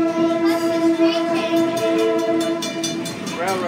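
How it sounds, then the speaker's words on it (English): A loud, sustained whistle blasts close by from a Wilmington Western Railroad train as it passes a railroad crossing, with high wheel screeching rising near the end and no talk. "That is a loud whistle. Plus the screeching."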